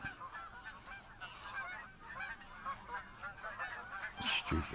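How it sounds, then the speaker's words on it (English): Geese honk repeatedly in the hunting game theHunter: Call of the Wild, a steady chorus of overlapping calls at moderate distance, growing louder and closer near the end. "And we do have geese around."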